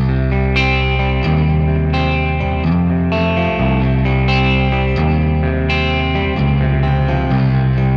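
Electric guitar through a digital multi-effects unit adding delay and reverb, sustained chords changing every second or so, loud and washy with echoing tails and no voice.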